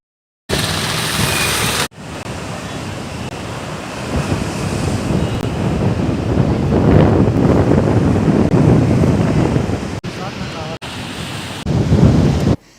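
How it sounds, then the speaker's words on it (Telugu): Heavy rain with thunder in the Visakhapatnam agency area, heard as a loud, continuous roar with strong wind buffeting the microphone and a deep rumble swelling in the middle, broken by a few short cuts. "ఉరుములతో భారీ వర్షం కురిసింది"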